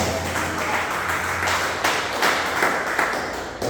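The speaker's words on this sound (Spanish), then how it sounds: "Es un fuerte aplauso para Jesucristo" A church congregation applauds steadily throughout, a dense patter of many hands at moderate distance that swells slightly partway through and carries on without pause.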